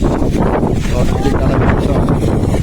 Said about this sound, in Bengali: প্রচুর বাতাস, দেখেনি বাতাসে কীভাবে ডিস্টার্ব করতেছে সবাই।